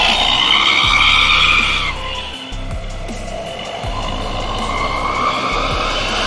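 A Hino RK8 air-suspension bus rolls past close by, its loud engine and tyre roar sweeping through with gear and pitch shifts before easing to a steadier drone.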